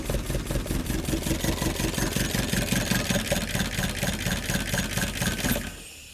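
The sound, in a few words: Corsa C20XE engine with carbs trying to run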